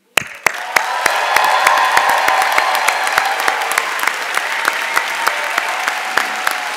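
An audience applauds at a 2019 public policy school commencement ceremony, a loud burst of sustained clapping that starts abruptly, then thins slightly as it continues, close and full.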